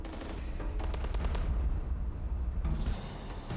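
Pirates on a ship's main deck fire gunshots into the air off Somalia, a quick burst of sharp cracks followed by a pause and another shot, moderately distant.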